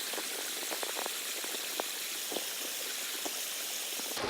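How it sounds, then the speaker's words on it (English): A river rushing beneath a log crossing near Snow Lake in the Tahoe and Desolation wilderness, a steady close wash of flowing water with small bubbling splashes throughout and no talking. "This is the only way across the river."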